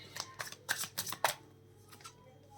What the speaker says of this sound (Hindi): कार्ड्स को अच्छे से शफल करना चाहिए